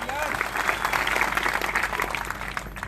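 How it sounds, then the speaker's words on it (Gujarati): An audience claps in a steady burst of applause at a public gathering, close and sustained for a few seconds with a voice audible over it. "એના માટે જોરદાર તાળીઓ પાડો."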